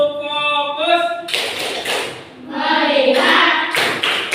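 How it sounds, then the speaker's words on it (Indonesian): A classroom of pupils doing the rhythmic tepuk fokus clapping routine, a voice chanting the words and then two bursts of crisp group claps, loud and close, mixed with the voices. "Tepuk fokus."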